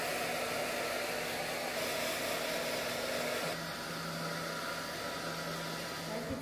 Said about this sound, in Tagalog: meron ditong hair dryer.